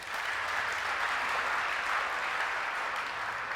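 A church congregation applauding, a steady, dense wash of clapping from many hands lasting throughout without a break.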